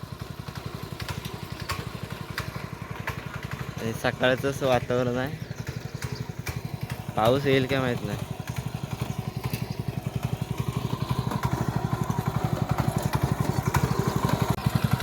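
A tractor engine chugs in a steady, rapid low pulse while ploughing a field in light drizzle, running continuously at moderate distance as someone talks over it in two short stretches.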